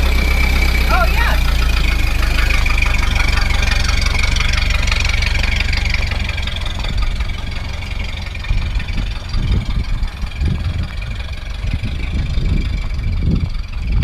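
A 1930 Ford Model A Phaeton engine idles steadily close by, a low continuous rumble with irregular puffs and knocks toward the end, while people talk over it.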